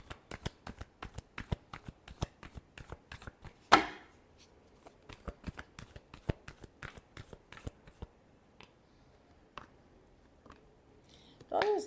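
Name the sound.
shuffling tarot cards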